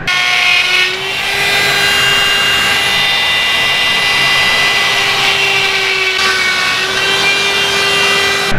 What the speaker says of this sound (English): One I gotta grind back a little bit.